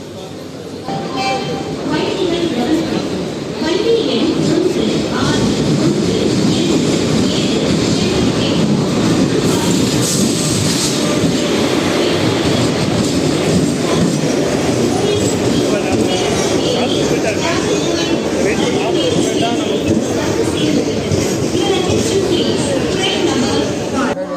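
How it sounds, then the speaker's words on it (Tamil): Guruvayur Express arriving at platform two of Madurai Junction on a crowded Saturday, a steady loud rumble and clatter of rail cars running throughout, with constant crowd chatter and voices over it. "ஃபைவ் ஃபார்ட்டி எயிட் பிஎம்க்கு நம்ம குருவாயூர் எக்ஸ்பிரஸ் மதுரை ஜங்ஷனில் அரைவ் ஸோ பிளாட்ஃபார்ம் டூவில் தான் அரைவாகுது"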